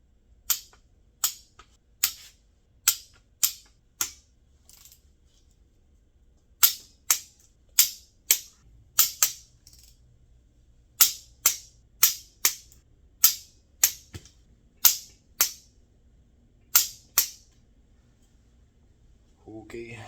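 A torque gun tightening bolts on a de-stroked EJ257 closed-deck engine build, a series of sharp, evenly spaced clicks in two long runs, loud and close, against a quiet background.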